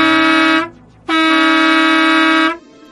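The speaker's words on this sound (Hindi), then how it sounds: "तभी उसके पीछे किसी गाड़ी के हॉर्न की आवाज आई।" Two loud, steady vehicle horn blasts, a short honk followed by a longer sustained one, close and clear with no talking.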